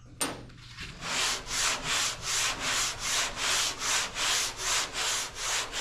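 Epoxy primer on a car hood being hand-sanded: after a brief knock, steady rhythmic back-and-forth scraping strokes, roughly two per second, close and fairly loud.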